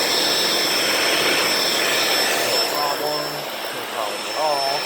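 A Shark Powered Lift-Away vacuum cleaner runs steadily on low carpet, a loud continuous whir with a high motor whine filling the whole stretch while a person talks over it.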